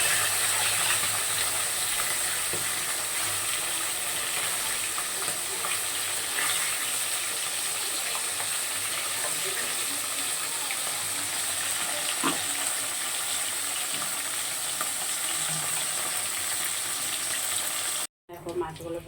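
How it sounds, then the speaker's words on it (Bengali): Fish frying lightly in oil in a pan, a continuous close sizzle and crackle that holds steady for a long stretch before a brief break. "মাছটা একটু হালকা করেই ভাজবো"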